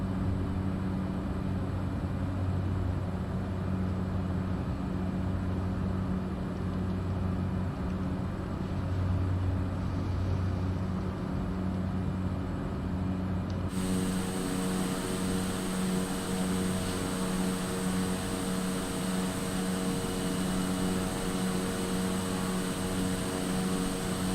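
Propeller aircraft engine in Microsoft Flight Simulator 2020 on an Alaska backcountry flight, a steady loud drone throughout that shifts in tone partway through as power is pulled back and the prop slows, with no talking.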